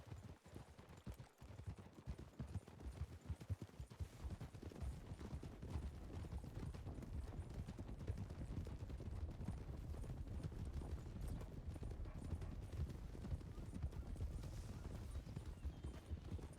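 Horses' hooves clip-clopping in a Red Dead roleplay game, a fast, steady, dense patter of hoofbeats that grows fuller after the first few seconds and carries on without pause.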